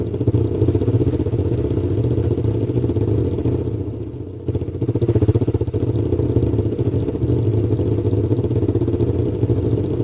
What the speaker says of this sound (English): Let's take the ATV.